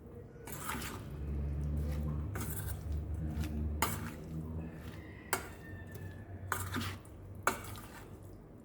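Raw mango pickle being stirred in a bowl, with soft squishing and scraping of a spoon against the dish, a few sharper clinks standing out over a steady low hum.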